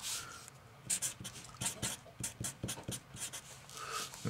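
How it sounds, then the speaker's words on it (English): Pen scratching rapidly across paper while working out an interest math problem, a quick run of close, dry scribbling strokes in uneven bursts with no talking. "I'm going to write"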